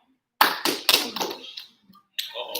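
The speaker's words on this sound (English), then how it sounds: "Ready? Clap." A few people clap on cue in a taekwondo class: a quick burst of three or four sharp, close claps, a brief pause with faint sounds, then another clap at the end.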